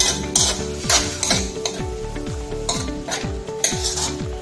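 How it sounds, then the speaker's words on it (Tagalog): Pansit miki with soy sauce and oyster sauce is stirred in a sizzling pan, a utensil scraping in a quick regular rhythm, about nine strokes over soft frying sizzle, up close with no talk. "Haluin ulit natin"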